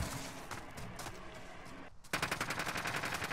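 Rapid automatic gunfire in Call of Duty Modern Warfare during a 2v2 gunfight match, a burst of shots followed by a brief gap and then a louder, sustained rattling stream of fire.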